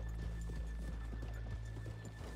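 Horses in Red Dead Redemption 2 clop along with a quick, even hoofbeat on a town street, and a whinny rises partway through. The scene is quiet and no one speaks.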